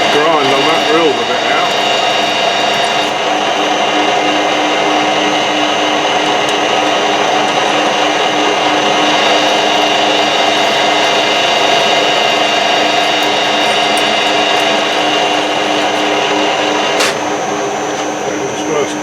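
Drilling through a metal workpiece while making an ER32 collet holder, a loud, steady machine whine that runs without a break throughout.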